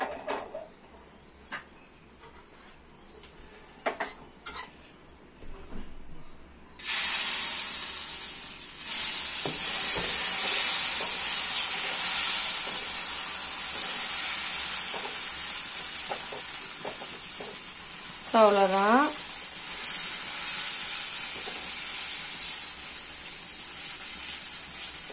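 Adai batter hits a hot dosa pan, bursting into a loud, sustained sizzle after a few quiet taps and clinks, with coconut oil added, while a brief high chirp rises over the hiss partway through.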